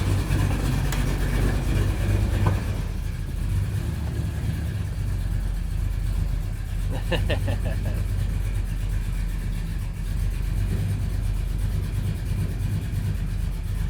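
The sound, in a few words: cammed Chevrolet Silverado truck engine running while shifting gears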